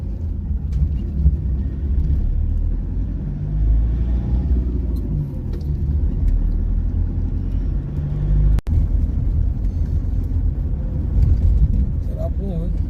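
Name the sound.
car driving on road with speed breakers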